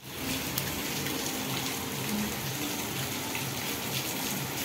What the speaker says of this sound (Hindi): ये देखिए कितनी बारिश हो रही है सुबह से।